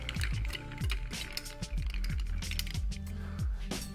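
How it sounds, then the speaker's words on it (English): Ice being stirred in a mixing glass for a Milano Torino cocktail with vermouth: a steady run of close, bright clinks and rattles from the cubes, repeating in quick irregular strokes with no talking. "Add ice to your glass and give it a stir for 20, 30, 40 seconds"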